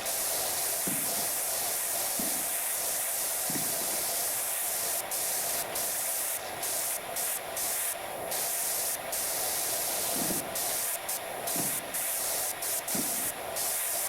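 Pressure washer spraying in the video game PowerWash Simulator 2: a steady, close hiss of water jet running through the whole stretch, with brief bursts and breaks in the spray and faint thumps from jumping underneath.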